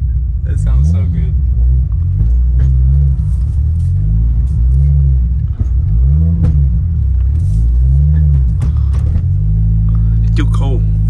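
Toyota Supra engine idling and revving while warming up in cold weather, a loud steady rumble with rising and falling rev swells throughout, voices talking over it.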